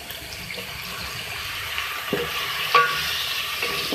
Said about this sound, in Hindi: इस मसाले को भून लें।